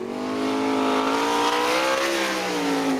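A 410 sprint car at speed on a qualifying lap at Crystal Motor Speedway in Michigan, its engine a loud, steady high-pitched roar with a slowly rising and falling pitch, close and continuous throughout.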